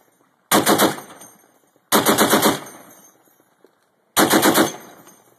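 Machine gun fire at a target range in three loud, close bursts, each about a second long and separated by short pauses.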